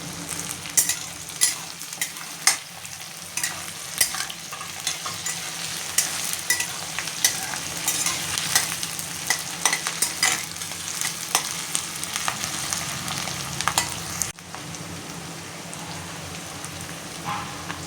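Whole garlic cloves and whole ginger frying in a pan for a spinach paneer masala, a loud, dense crackling sizzle with frequent spatters and utensil scrapes that drops abruptly near the end.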